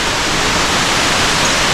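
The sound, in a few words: water rushing into a tunnel at an abandoned dam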